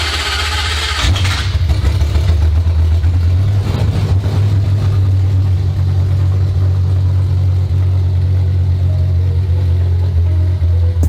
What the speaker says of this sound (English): Yes, engine is started.